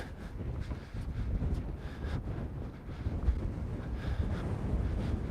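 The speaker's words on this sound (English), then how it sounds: "It's a little bit more windy up here" Steady wind buffeting the microphone, a low rumbling roar with gusty swells throughout, no voices.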